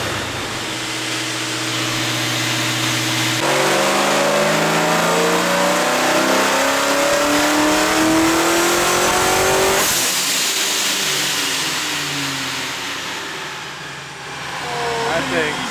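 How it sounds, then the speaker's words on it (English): A fully built supercharged Mustang roars through a sustained wide-open pull on a dyno, the engine note and supercharger whine climbing in pitch, then it lets off and revs again, loud and close. "That thing is ear piercing."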